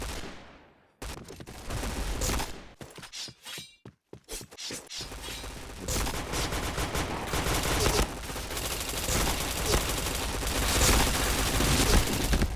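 Gunfire in a shooting video game: after a brief quiet start, clusters of sharp shots crack out in quick irregular bursts, then merge into a loud, sustained barrage that keeps building to the end.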